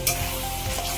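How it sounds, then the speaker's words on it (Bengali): Garlic and ginger paste sizzles in hot fried onion paste for mutton biryani, a steady close frying hiss with faint stirring scrapes. "এবার আমি রসুন আর আদার পেস্টটা দিয়ে দেবো"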